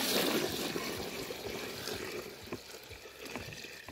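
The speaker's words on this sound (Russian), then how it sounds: "Заливаем водой теперь его." Water gushes and splashes steadily into a bucket of dry barley, a close, continuous pour that slowly softens into trickling.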